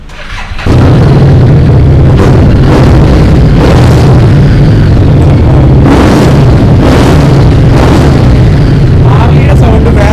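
A second-hand Harley-Davidson motorcycle in clean condition starts up and runs loudly nearby, a deep, steady throbbing rumble that holds for about nine seconds with occasional heavier bursts.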